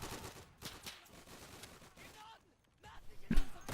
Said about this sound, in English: I fire through the wall, which hopefully kills a few of them